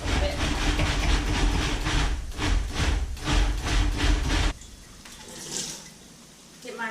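A food processor or blender pulses tomatillo sauce: a loud, dense roaring whir in several short bursts for about four and a half seconds, then a sudden stop leaving quieter background sound.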